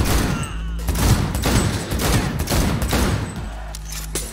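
Dense bursts of automatic gunfire in Cyberpunk 2077 rattle out across the whole stretch, a sustained shootout of overlapping shots with brief lulls, loud and close.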